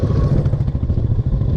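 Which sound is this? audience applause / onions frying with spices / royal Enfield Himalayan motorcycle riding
royal Enfield Himalayan motorcycle riding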